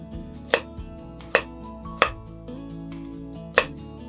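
A kitchen knife chops carrots into small rounds on a cutting board, four sharp, close knocks spaced unevenly, with a low steady hum underneath and no talking.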